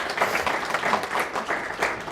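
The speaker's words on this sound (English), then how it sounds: "yes, applause" A university-center audience at a policy talk gives a short burst of applause, moderately loud and even, with no other sounds standing out.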